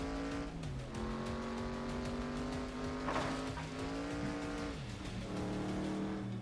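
Race car engine in the FlatOut 2 video game revving hard, with steady loud harmonic engine tones rising and falling through gear shifts over about six seconds, and brief tire-squeal textures mixed in.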